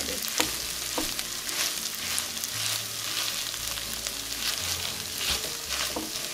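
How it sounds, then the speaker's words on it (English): Continuous sizzling and frying of potatoes and chorizo in a frying pan as they are mashed together, with soft scraping and stirring noises and no talking. "I'm gonna start mashing the potatoes into the chorizo"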